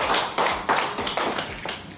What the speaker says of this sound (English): I want to request you to clap for our institutions.